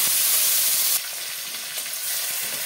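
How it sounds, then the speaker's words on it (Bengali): Onion frying in hot oil with bay leaf, dried chilli, cinnamon, cardamom and cloves, a loud, dense steady sizzle heard up close that eases slightly partway through, with no talking. "পেঁয়াজটাকে একটু লাল লাল করে ভাজবো।"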